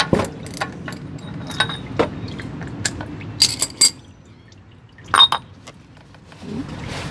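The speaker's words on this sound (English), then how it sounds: "Still getting a little drip" Oil drips from the filter housing of a 2013 Toyota Sienna during an oil change, falling as scattered, sharp little taps and clinks with a few louder bursts over a low, steady background.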